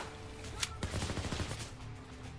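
Gunfire in Overkill's The Walking Dead rattles as a quick run of close shots, a sharp crack followed by a dense, rapid burst that trails off into background noise.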